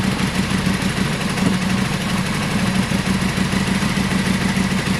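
Yamaha Virago 535 motorcycle engine idling steadily after a carburetor fix, a continuous even low throb with a rough mechanical rumble, close and fairly loud, with no talking over it.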